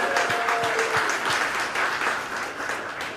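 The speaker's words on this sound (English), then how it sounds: "Let's give her another round of applause." Audience applause at a live storytelling event, a steady wash of many hands clapping that stays fairly even throughout, with a few low thumps and a brief tonal whistle early on, with no voices over it.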